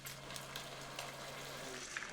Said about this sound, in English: We're adding the sauce and this is gonna sizzle and smoke and bubble